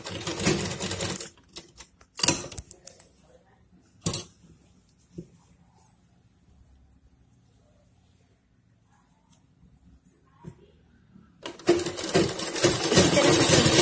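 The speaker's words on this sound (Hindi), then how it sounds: "दामन को नीचे की ओर सिल देना है" A sewing machine stitching down the hem of a simple suit, heard in short separate bursts early in the clip. A longer stretch of steady whirring follows near the end, with quiet gaps between the runs.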